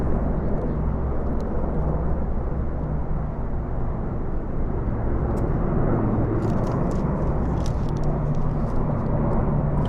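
Merlin helicopters fly past over London, producing a steady, heavy rumbling drone with a low throbbing tone that holds evenly throughout.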